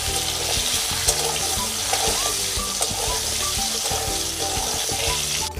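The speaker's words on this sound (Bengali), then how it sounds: "এবারে আমি ভালো করে নাড়াচাড়া করে ভেজে নেব।" Potatoes fry loudly in oil with a dense, continuous sizzle and regular scraping strokes as they are stirred in the pan, seasoned with salt and turmeric.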